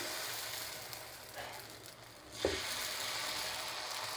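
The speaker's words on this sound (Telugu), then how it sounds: "ఇప్పుడు అలానే ఇంకొక దోశ వేసుకుందాం" Instant dosa batter sizzles on a hot pan, a soft, steady hiss heard fairly faintly at close range, with a brief clink partway through.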